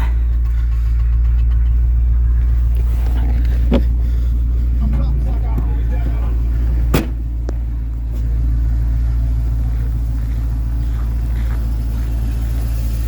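A 1996 Ford F-150 idles steadily on a frigid 1°F morning after a cold start, its low engine rumble continuous and close, with a loud alternator whine running through it and a sharp knock partway in.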